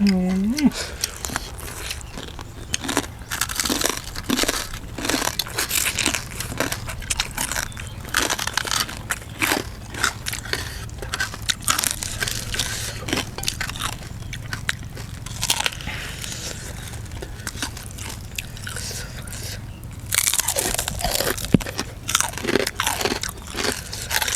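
Crispy pork tail eaten alongside a spicy Thai papaya-style salad, loud close crunching and chewing with rapid crackling bites that repeat steadily throughout, under intermittent talk.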